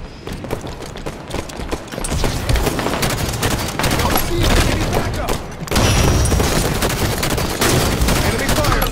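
Enemy gunfire in a video game, dense rapid bursts of loud shots crackling almost without pause, with brief game voice callouts over the fire.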